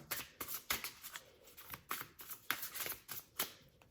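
Tarot cards riffle-shuffled close up in a quiet room, a string of crisp papery flutters and slaps in an irregular rhythm, with no talking.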